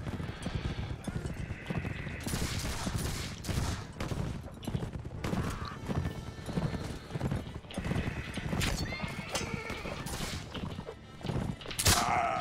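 Winged hussars' horses riding in Mount & Blade With Fire & Sword, a dense battle din of galloping hooves, neighing and scattered gunfire that runs continuously and loudly throughout, with brief voices mixed in.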